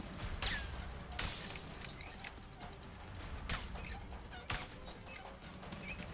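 Rapid bursts of gunfire during a theater shootout in the co-op game A Way Out, with several sharp shots over busy background game noise.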